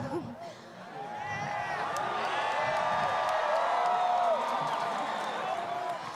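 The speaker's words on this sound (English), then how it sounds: "You're all very loud." A big, loud crowd of scouts cheers and whoops inside a stadium at the opening of the 24th World Scout Jamboree in West Virginia, a sustained roar of many voices swelling over six seconds.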